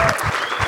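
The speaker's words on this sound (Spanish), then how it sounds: "Otro aplauso a nuestro pastor también." Dense, steady applause from a crowd, continuous throughout the short moment.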